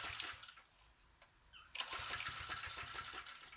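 A Briggs Raptor small engine is pull-started with a couple of rough cranking pulls, then catches and runs loud and steady up close, no talk over it.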